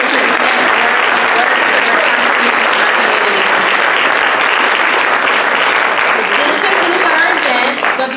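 A gala audience at the All Black Gala 2023 at CSUMB, a celebration of Black excellence in STEM, gives loud, sustained applause that fills the room steadily for about eight seconds, with a few voices mixed in.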